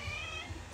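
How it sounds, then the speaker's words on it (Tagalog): One of several cats gives a single short, faint meow, caught in passing during a casual livestream. "Maraming cats. Maraming pusa."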